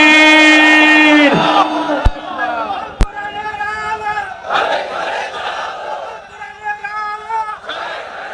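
A large religious gathering at an outdoor mahfil in Barisal roars a loud unison chant in reply to a call, the massed voices swelling together, then fading as a single speaker resumes.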